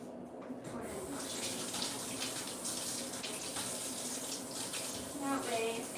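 Tap water running into a sink during handwashing, a steady splashing flow with small clinks and a faint voice underneath.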